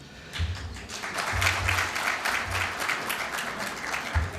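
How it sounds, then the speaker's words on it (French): An audience at a lawyers' general assembly in a Sheraton hotel ballroom in Oran gives sustained applause, a dense, even rush of clapping from many hands heard alone, with a faint low hum beneath. "Merci de vos applaudissements"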